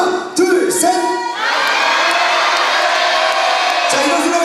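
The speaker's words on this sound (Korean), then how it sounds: "다 같이 친구들의 이름을 부르면서 누구누구야 사랑해라고 크게 한번 외쳐줄게요" Parents at a kindergarten graduation recital shout their children's names and declarations of love all together, a loud sustained roar of mixed adult voices and cheering after a brief lead-in.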